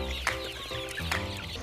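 Chickens on a farm give a few short clucks and a sharper squawk close by, quiet but clear and heard alone.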